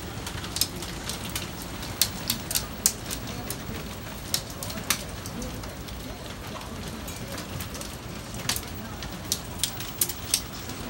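Hail pelts down during a storm, making a dense, steady patter punctuated by sharp, irregular clicks and cracks as stones strike nearby surfaces.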